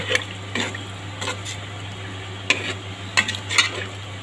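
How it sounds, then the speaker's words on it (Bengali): Pabda fish curry cooks down in a pan with a little water, a soft simmering sizzle under a low steady hum, broken by occasional sharp scrapes and clinks of a spoon against the pan. "আমি এটাকে ভালো করে এখন কষিয়ে নেব।"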